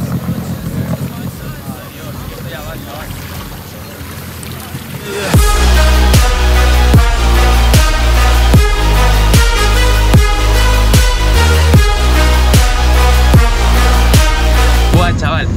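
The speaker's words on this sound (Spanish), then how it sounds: "Esta nave de aquí tiene 300 caballos y alcanza nada más y nada menos que 105 kilómetros hora." A 300-horsepower water craft capable of 105 km/h fires up partway through, its loud, steady engine drone with a pulsing rhythm taking over from quieter wind and background noise, close to the microphone.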